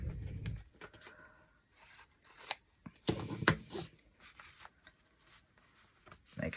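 Scissors cutting cardboard to shape carrot decorations, a series of irregular close snips and crunchy scraping cuts with quiet pauses in between.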